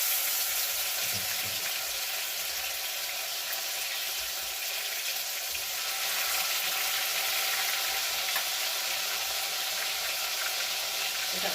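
Pork frying in a pot for Jamaican brown stew gives a steady, close sizzle with soft watery crackle throughout and no voices.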